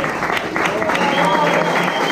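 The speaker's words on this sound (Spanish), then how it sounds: "metele un fuerte aplauso" A crowd claps and cheers at a breakdance battle final, a continuous loud wash of applause with voices mixed in throughout.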